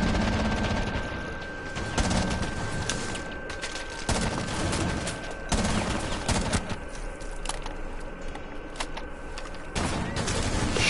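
Shotgun fire in a video game: rapid, loud blasts in close succession, layered into a dense fusillade with continuous background noise throughout.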